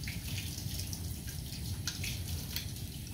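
Tap water runs steadily into a sink while hands are rinsed during a surgical scrub, a continuous close splashing wash with small drips and spatters on top and no talk.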